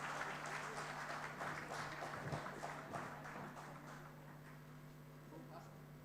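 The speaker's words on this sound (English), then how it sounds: "The louder the applause, we would feel the energy and the hype in the house." Audience applause at a golden jubilee celebration and conference in a hall, steady dense clapping across the whole stretch with a constant low hum underneath, gradually easing toward the end.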